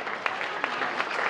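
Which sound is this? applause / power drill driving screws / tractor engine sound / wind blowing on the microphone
applause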